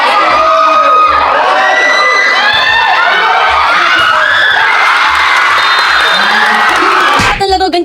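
A crowd at a ball game shouts, whoops and cheers loudly and continuously, with children's high voices prominent, before a sudden burst of noise near the end.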